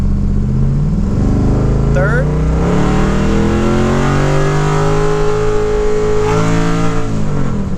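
An LS-swapped third-generation car accelerates hard in a low gear without shifting up, its engine note climbing steadily in pitch as the revs rise, loud and close throughout, with brief talk over it.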